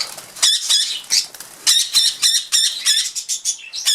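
Lovebird chicks squawk and chirp in quick, harsh, repeated bursts, close and loud, several calls overlapping in a continuous chattering series.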